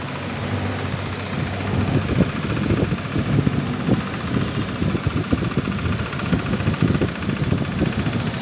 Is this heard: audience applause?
no